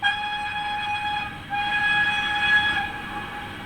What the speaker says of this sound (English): Function 3 is a long whistle.